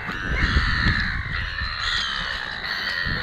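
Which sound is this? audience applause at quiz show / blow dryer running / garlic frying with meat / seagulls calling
seagulls calling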